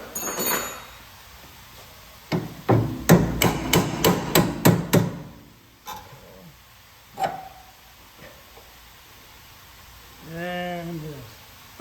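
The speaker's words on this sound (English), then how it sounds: "You might have to tap it out. Get a rubber hammer." A rubber hammer taps a shock absorber loose during a Spec Miata MX5 build: a quick run of about eight sharp knocks, then scattered single taps, close and fairly loud, with a brief voice later.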